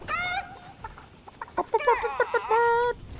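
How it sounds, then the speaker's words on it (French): Chicken clucks and squawks from the video game Fortnite, a few bright harmonic calls with short clucking bursts between, close and fairly loud. "On reconnaît la voix de Chris qui a prêté sa voix pour les bruitages de poules."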